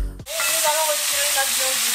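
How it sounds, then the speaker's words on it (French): Beef seared in hot oil gives a loud, steady, close sizzle that bursts up abruptly and then holds a bright crackling hiss, with no one talking. "On la fait revenir 2 minutes dans une huile chaude."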